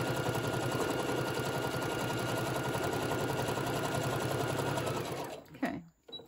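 A sewing machine stitches fabric for a Christmas tote bag, a steady rapid mechanical chatter running loud and close for several seconds before stopping abruptly, followed by a few faint handling clicks.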